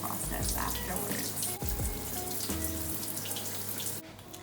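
Tap water runs steadily while conditioner is rinsed out of hair during a wash day, a close, continuous splashing flow with brief shifts as hands move through the stream, no voices.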